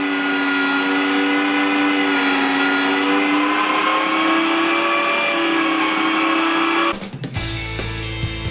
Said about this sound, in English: the meat grinder is set up, so let's turn it on. And let's start grinding.